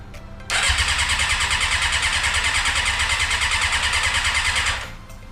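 A Suzuki GSX-R 750 motorcycle, rebuilt for racing, cranks and fires, then runs at a loud, steady, close idle for about four seconds before cutting off abruptly.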